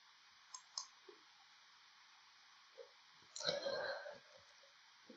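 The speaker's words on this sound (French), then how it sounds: "je clique sur le bouton Convertir" A mouse clicks on the Convert button in Artlantis rendering software, giving a few faint, sparse clicks in a quiet room. A soft, hushed voice and some handling noise come in midway.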